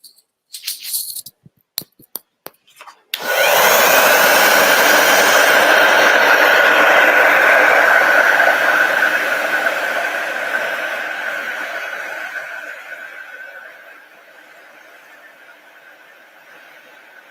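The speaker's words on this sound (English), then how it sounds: "So this is wet, so I want to use the heat gun." A heat gun drying the wet edges of a craft project switches on after a few clicks and handling sounds, then blows in a steady loud whoosh that gradually fades lower.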